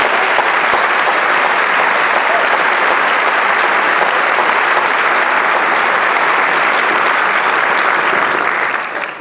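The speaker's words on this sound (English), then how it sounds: "Please join me in giving all of our NYSSMA students a well-deserved round of applause for their hard work." Sustained, dense applause from a concert audience honoring NYSSMA music students at an evening school music event, loud and steady throughout before tapering slightly at the very end, with no talking over it.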